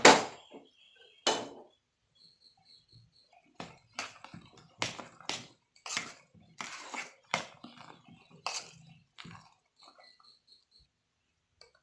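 Spoon or hand working vada batter with ginger in a bowl, heard as scattered sharp clicks and taps at irregular intervals between quiet gaps, close and fairly clear, with no talking.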